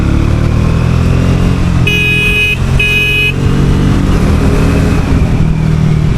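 A Triumph Speed T4 motorcycle pulls in fourth gear with a loud, steady engine drone and wind rush close to the rider, and a short horn-like tone sounds twice in the middle.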